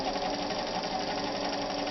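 Sewing machine running steadily on its first use, a continuous loud mechanical whir with fast even needle chatter throughout, set for zigzag stitching though no zigzag cam is fitted.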